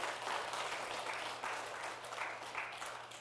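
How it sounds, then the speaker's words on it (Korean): Audience applause following a call to clap during a Buddhist prayer lecture, a steady dense wash of many hands clapping at moderate distance with a low hum beneath, sustained throughout. "그분들께 박수 한번 쳐주십시오."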